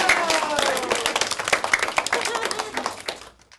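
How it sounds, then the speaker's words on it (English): A library crowd claps and cheers for a juggler after a dramatic finishing pose, lively close applause with scattered whoops that gradually thins and fades out. "listen to that crowd"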